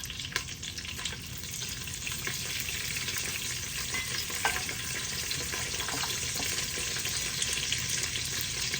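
Dried red chillies frying in hot oil in a pan, a dense continuous sizzle and crackle with occasional pops and stirring scrapes, close and steady.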